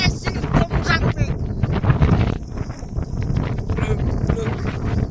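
Strong wind on a cloudy, rainy hilltop trail at Tumjang in Assam, buffeting the microphone in loud, uneven gusts and rumbles, with a voice speaking over it at times.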